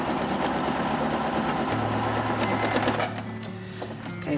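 A sewing machine runs a straight stitch along a garment, a steady fast mechanical whir for about three seconds before slowing and dropping away to a quieter hum.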